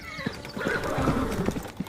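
A horse whinnies and its hooves clip-clop in a short, lively burst, close and clear with no voice over it.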